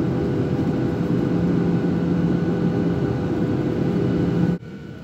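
Steady, loud airliner cabin roar during a night flight's descent toward landing at São Paulo, a broad engine and airflow rumble that holds constant before dropping abruptly near the end.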